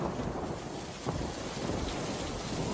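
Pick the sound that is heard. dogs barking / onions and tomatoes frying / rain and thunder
rain and thunder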